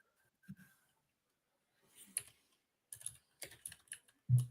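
Clattering computer keyboard typing in a quiet room, heard alone as a few short bursts of keystrokes with a louder thump at the end.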